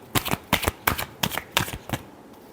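Tarot cards are riffled by hand in quick bursts of crisp, close flicking, about seven short shuffles in a steady rhythm with brief pauses between them.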